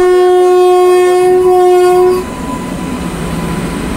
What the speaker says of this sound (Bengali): ট্রেন এই মুহূর্তে ছেড়ে দিয়েছে অনেকক্ষণ দাঁড়িয়ে থাকার পর